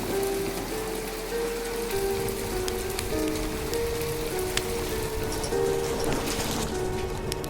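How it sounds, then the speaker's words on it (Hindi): Steady, dense rain pattering hard on surfaces, a continuous wash of drops with faint tonal hum underneath. "बहुत तेज बारिश हो रही है।"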